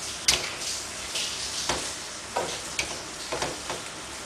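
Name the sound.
sauce simmering in a pan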